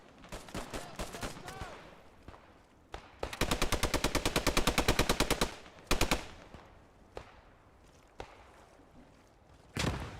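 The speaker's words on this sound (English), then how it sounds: "There's the MG fire immediately" Machine gun fire in the WWII shooter Post Scriptum: a long, rapid, evenly spaced burst in the middle, with shorter bursts and single heavy shots before and after, close and loud.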